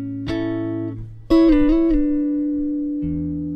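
A short electric guitar lick in sixths, with paired notes sliding and bending, clean tone with sustained ringing notes, played alone.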